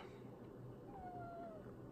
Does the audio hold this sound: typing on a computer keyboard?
no